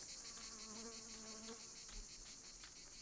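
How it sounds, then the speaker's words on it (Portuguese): Mosquitoes buzz near a lake in the horror game Martha Is Dead, a soft, steady insect drone with wavering high whine throughout, faint and continuous without speech. "Estão ouvindo esses mosquitos?"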